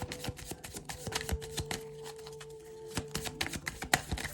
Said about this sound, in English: I'm just giving this deck here a shuffle.